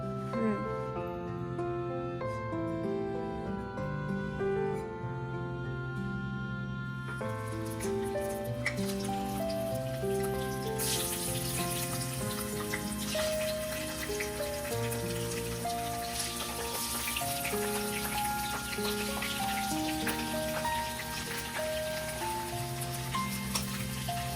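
Steady rain patters outside throughout a Sunday lunch, dense and fairly quiet, mixing with background music and kitchen sounds while crabs are being fried in mustard oil.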